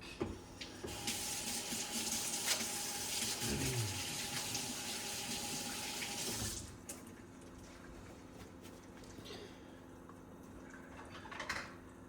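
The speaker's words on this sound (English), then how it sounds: "rinse my hands off real quick" Water from a kitchen tap runs steadily while hands are rinsed during chicken fried rice cooking, a loud continuous rush for about six seconds before it shuts off, leaving quieter kitchen sounds.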